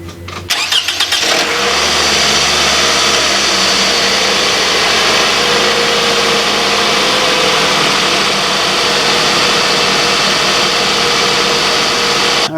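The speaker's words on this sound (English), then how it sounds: "now I'm going to start up my car" A car engine cranks briefly and catches after a boost from a Victorem multi-function battery jump starter, then settles into a loud, steady idle close by that runs without any talk.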